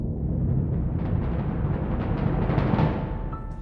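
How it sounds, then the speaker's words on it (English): An orchestral bass drum roll forms a dense, steady low rumble that holds at an even loudness for about four seconds, alone and without any talk. "It's just a bass drum roll, orchestral bass drum"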